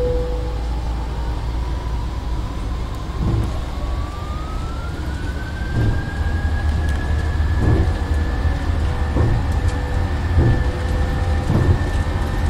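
Jet engines spool up to takeoff thrust in the Prepar3D v5.2 flight simulator on a Prague departure: a steady low rumble carries a whining tone that climbs and then levels off, with faint periodic clicks.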